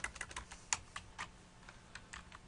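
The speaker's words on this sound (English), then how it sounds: "so we just type in a name here" Quiet, close typing on a computer keyboard, a quick run of light key clicks in short bursts with brief pauses, entering a name with no one talking.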